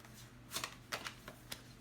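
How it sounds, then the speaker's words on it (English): A deck of tarot cards is shuffled by hand at close range, giving a soft, steady riffling with several brisk flicks of card against card, fairly quiet and with no voice over it. "So, I wasn't done shuffling."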